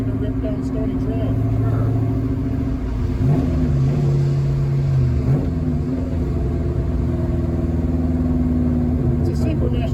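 A car with a super mesh transmission and a McLeod RXT Street Twin clutch drives down Stony Trail, its engine droning loudly and steadily with pitch shifts as it accelerates and changes gear, under the continuous rumble of road and cabin noise.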